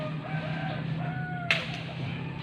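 Chickens cluck softly in the background, a few scattered calls over a low hum, with one brief sharp clatter midway.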